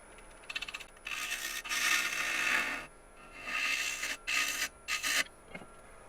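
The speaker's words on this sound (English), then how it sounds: "We'll just use the 1/2-inch bowl gouge with the long grind. Just kind of skim it" A half-inch long-grind bowl gouge skims a cored bowl blank spinning at about 900 RPM on a wood lathe. It makes soft, raspy scraping bursts, several in a row with brief pauses between, quiet and close.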